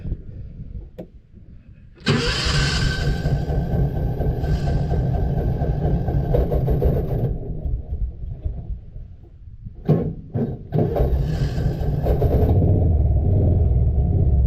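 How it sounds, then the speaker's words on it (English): A 2016 Kawasaki Mule 610 UTV engine cranks, catches and runs, then revs as the gas is pressed, loud and close with a few sputtering breaks before settling into a steady idle. "And I will be stepping on the gas this time."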